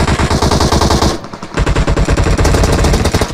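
Rapid machine gun fire in a shooting video game, loud continuous bursts of rattling shots with a brief pause, no voices over it.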